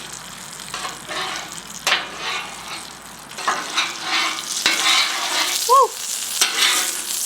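A hot Blackstone griddle is scraped clean, with loud sizzling and hissing water broken by repeated metal scraper strokes up close, and a brief shouted exclamation partway through.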